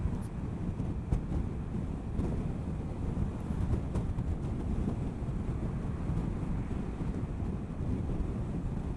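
A 2019 Yamaha XMAX 250 ABS scooter is ridden uphill and speeds up. Heavy steady wind roar buffets the microphone and covers a low engine drone throughout.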